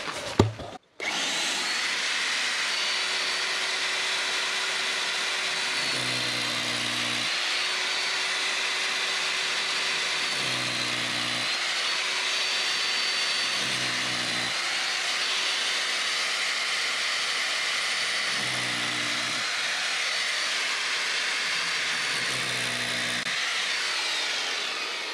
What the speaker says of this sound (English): I'm just going to get these last few holes I'm going to drill. With my new drill.